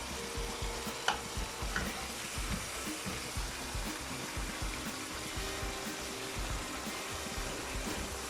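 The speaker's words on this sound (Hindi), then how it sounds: "थोड़ी देर हम इसको भूनेंगे" An onion and garlic mixture fries and is stirred in a pan for a bara paya dish, a continuous close sizzle with a scraping, shuffling rhythm and no speech.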